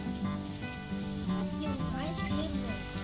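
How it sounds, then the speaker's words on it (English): Steady hiss of water spraying to rinse dirt and grime off a trailer, a continuous wash running under a voice talking. "So the first part of washing the trailer is what? Rinsing it?"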